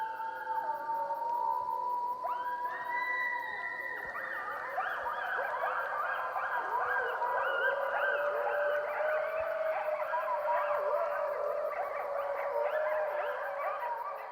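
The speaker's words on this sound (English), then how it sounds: "We call this a mourn howl." A wolf pack gives a mournful howl, several long voices overlapping and sliding downward in pitch, sustained and layered for many seconds in an open wild setting.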